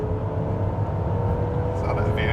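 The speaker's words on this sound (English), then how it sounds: "I'm going to try doing another quick 0 to 60 run." A 2025 Buick Enclave Avenir SUV accelerates hard from a stop toward 60 mph, with a loud, steady engine roar and road rumble heard from inside the cabin.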